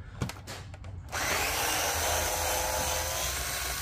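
A power screwdriver removes the screws from a Bose Wave radio during disassembly. A few short clicks and taps come first, then the motor whirs loud and steady close by.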